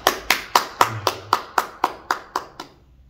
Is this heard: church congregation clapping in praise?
yes